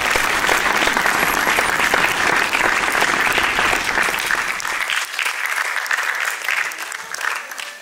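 Loud, sustained applause from an audience at a Sikh arts and film festival for the United Sikh Mission team, dense clapping that continues throughout and thins slightly toward the end.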